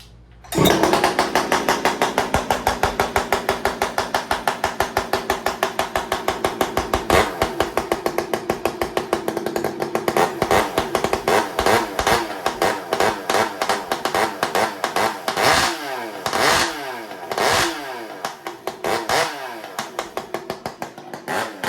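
A Husqvarna 562 or 572 chainsaw fitted with aftermarket exhaust pipes runs steadily and loud up close, its rapid firing pulses holding for most of the time before several revving surges near the end.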